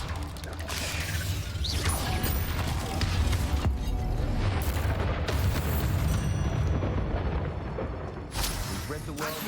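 Blasting Confringo spell explosions from the video game Hogwarts Legacy, with loud booming bursts and crashes over dense, continuous game noise. Talk runs beneath it.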